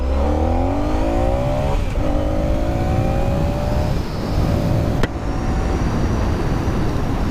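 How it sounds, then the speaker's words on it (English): A Honda ST 1300 motorcycle accelerates hard in first gear, its engine note climbing steeply through several rising sweeps with a brief gear-change dip, loud and close against wind and road roar. "When I floored it in first gear, the front end came off the ground."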